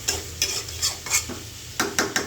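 Cauliflower florets stir-fried in a pan, with a steady sizzle and a string of sharp scraping stirs of a utensil against the metal, close and fairly loud, with no voices.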